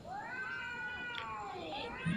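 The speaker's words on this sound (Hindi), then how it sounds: "ऐसे उस मोर्चे से बिल्लियों के लड़ने की आवाज़ आती थी।" Cats yowl and caterwaul in long, wavering, rising and falling cries, fairly close, with a brief low thump near the end.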